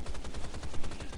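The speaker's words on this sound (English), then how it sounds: "we're going to get busy with this machine gun here" Rapid machine gun fire from the shooter Rise of the Triad: a dense, continuous rattle of closely spaced shots, loud and close, with no break for the whole stretch.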